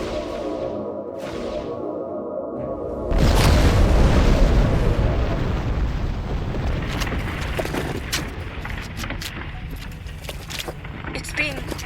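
A protomatter detonation near a Borg cube in the Star Trek Online game erupts as a loud, deep boom, then rumbles on with crackling bursts and sci-fi effects.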